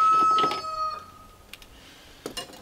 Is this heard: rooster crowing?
yes